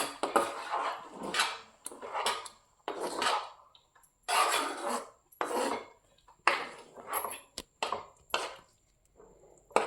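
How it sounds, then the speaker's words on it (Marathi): Palak paneer finished with kasuri methi is spooned from the pan onto a plate: a run of close scraping and clinking bursts of spoon against metal and plate, repeating in an uneven rhythm with short pauses between. "आणि आता हे खाण्यासाठी आपण ताटामध्ये घेऊया"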